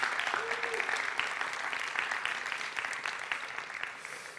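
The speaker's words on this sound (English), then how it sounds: "a big round of applause for Emma as well." An audience at a TEDx climate conference applauds in a steady, dense wash of clapping that holds for several seconds, fairly distant and even, with a faint voice briefly under it.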